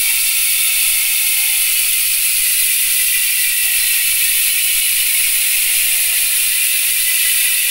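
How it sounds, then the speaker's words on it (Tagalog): Hasins Pro 7 MTB hub with sealed bearings spinning freely, its freewheel pawls producing a loud, continuous, very rapid ticking that blurs into a steady metallic buzz, with no talking. "Ayan yung tunog ng Hasins Pro 7 MTB hubs kapag naka-free wheel."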